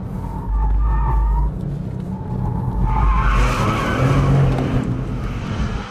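A Porsche 911 drifts through the Corkscrew at Laguna Seca, its engine roaring as tires squeal loudly and steadily through the slide, close and intense without talk.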